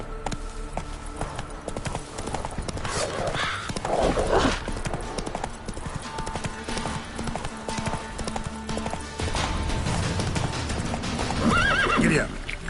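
Roach the horse gallops in The Witcher 3, with steady rhythmic hoofbeats pounding along continuously and a whinny breaking through, loud and close throughout.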